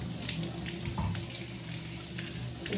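Tap water runs steadily into a kitchen sink while dishes and eggs are being washed, a continuous close splashing hiss with no talking.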